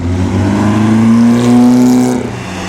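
A vintage race car roars past at the 2013 Mille Miglia road race, its engine note rising and falling in one loud, close pass that fades as it leaves.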